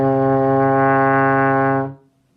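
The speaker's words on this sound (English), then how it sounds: "Let's try that on the trombone." A trombone with its slide out at sixth position holds one steady, low, brassy note for about two seconds, then cuts off cleanly, played close and alone.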